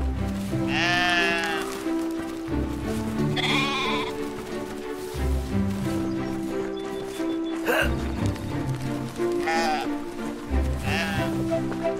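Sheep bleat repeatedly in the video game Brothers: A Tale of Two Sons, several loud wavering cries spaced through the clip over layered game music and ambience.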